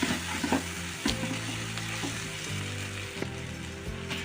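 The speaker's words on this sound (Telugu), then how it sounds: "హాఫ్ స్పూన్ పసుపు ఒక స్పూన్ జింజర్ గార్లిక్ పేస్ట్ కూడా వేసి పచ్చివాసన అయ్యే వరకు వేయించుకుందాం" Onions sizzle and fry in hot oil with turmeric and ginger garlic paste, a steady close crackle broken by a few clinks and scrapes of stirring.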